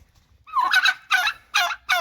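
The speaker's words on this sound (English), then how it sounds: "Excuse the turkeys. They always come and join the group here." Turkeys gobble close by outdoors near a backyard grill, several loud, rattling gobbles in quick succession with short pauses between them and no talking.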